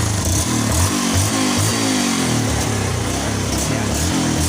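A Yamaha Jupiter Z1 motorcycle engine runs steadily with no battery fitted, its close, loud idle pulsing in an even throb with slight revving swells throughout.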